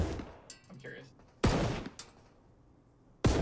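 Gunshots in the video game Marauders ring out as sharp, loud single cracks, three spaced across a few seconds with quieter clatter between them.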